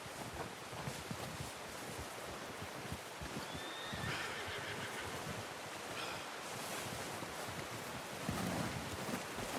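A horse whinnies in Red Dead Redemption 2 over steady wind and surf-like background noise, with a couple of brief high calls rising midway.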